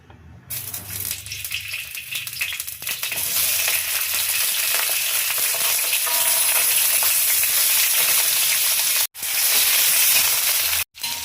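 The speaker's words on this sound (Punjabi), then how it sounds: "ਤੇ ਹੁਣ ਇਸ ਤੇਲ ਦੇ ਵਿੱਚ ਜੀ ਆਪਾਂ ਥੋੜਾ ਥੋੜਾ ਰੋਸਟ ਕਰਾਂਗੇ ਜੀ ਸ਼ਿਮਲਾ ਮਿਰਚ ਤੇ ਜੋ ਆਪਾਂ ਪਿਆਜ਼ ਲਏ ਨੇ ਜੀ" Capsicum and onion roasting in oil for chilli paneer, producing a loud, steady frying hiss and crackle that builds after a quieter start, with two brief dropouts near the end and no talking.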